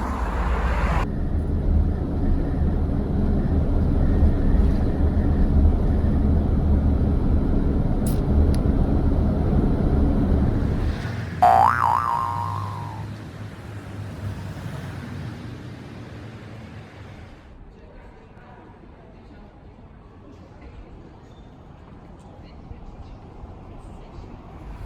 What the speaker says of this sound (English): I'm really happy to hear the sound of driving cars.